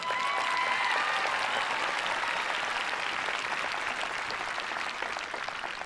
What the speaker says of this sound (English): Give them a hearty round of applause